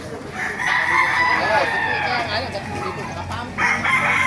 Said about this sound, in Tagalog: Okay, mga manok ko.